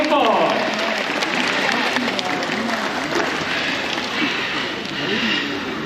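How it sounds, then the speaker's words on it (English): Audience applause fills a bird show arena, a dense steady wash of clapping from a large crowd with voices and chatter mixed in, lasting several seconds at a consistent level. "let's give a round of applause for our fruit gathering report"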